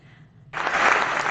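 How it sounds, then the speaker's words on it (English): Studio audience applause bursts in suddenly after a quiet moment, a dense, steady wash of clapping that stays full and even to the end. "Round of applause"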